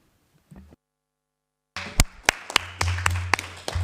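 In a council meeting chamber, a few people clap sparsely after a brief silence, with scattered sharp close claps sounding over a low room hum and faint shuffling.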